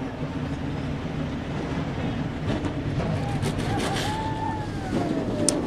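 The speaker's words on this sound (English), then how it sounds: "The engines have fired." NASCAR Xfinity Series stock car engines fire up together at Bristol Motor Speedway, a dense continuous roar from a distance filling the track with a steady rumble.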